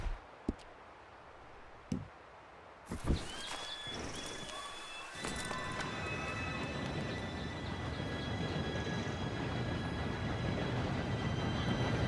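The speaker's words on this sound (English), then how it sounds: "Train should be here any minute now." An approaching train in the video game Red Dead Redemption 2 builds from a few sharp knocks into a loud, continuous rumbling roar with faint high squeals, growing steadily heavier as it draws near, with no voices.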